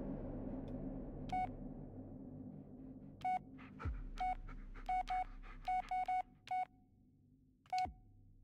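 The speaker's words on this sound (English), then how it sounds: "Call someone on the phone? Because I'm going to do that." A phone's keypad dialing tones in the Blair Witch video game, a series of short separate beeps that come faster toward the end, loud and clear over a low ambient rumble.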